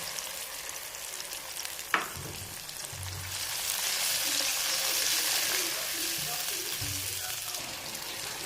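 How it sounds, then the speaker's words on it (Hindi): Onion paste fries in a pot for Pakistani chickpea curry, a soft continuous sizzle with a sharp clink near the start and occasional low stirring thumps, fairly quiet and without talk. "अब हम इसके अंदर प्याज वाला पेस्ट ऐड करेंगे।"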